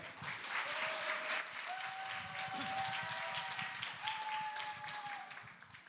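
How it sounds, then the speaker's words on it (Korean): Audience applause at a church speech contest, steady dense clapping throughout, fairly distant and moderate in level, with faint sustained tones over it. "박수로 함께 응원해 주세요"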